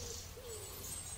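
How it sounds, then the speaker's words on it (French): Birds call faintly in autumn at Plum Village's Upper Hamlet, with a few thin, distant notes drifting over a steady, quiet outdoor hiss. "les oiseaux"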